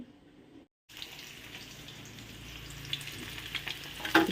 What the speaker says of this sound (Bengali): একদম তপ্ত গরম তেলে কালো জিরে ফোড়ন দিয়ে, আর কি কাঁচা লঙ্কা রসুন আর পেঁয়াজ দিয়েছি